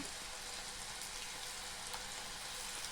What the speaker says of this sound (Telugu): నూనె కాగింది. మనం తీసి పెట్టుకున్న క్యారెట్ ముక్కల్ని అందులో వేసుకోవాలి.